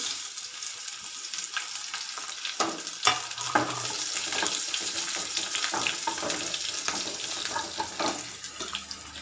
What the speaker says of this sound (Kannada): ಸಾಸಿವೆ ಹಾಕೋತಾ ಇದ್ದೀನಿ.